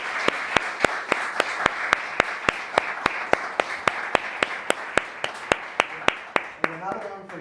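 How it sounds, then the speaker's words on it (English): Rhythmic clapping from a developer meetup audience in Athens thanking the speakers, sharp evenly spaced claps in a steady beat over a soft applause bed, ending with a voice starting to speak. "a big applause, please, everyone"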